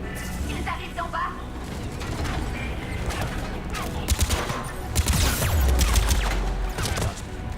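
Gunfire in the Mass Effect 3 video game, rapid bursts of automatic weapon shots with mechanical clatter and explosive thumps over game background noise, loud and close.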